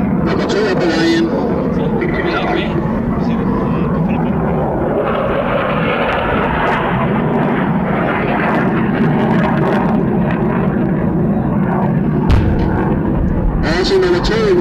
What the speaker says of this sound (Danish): Nummer 2 F-16's bomber rammer perfekt, og I ser, at han forsvarer sig selv ved at udskyde flares til forsvar mod varmesøgende missiler.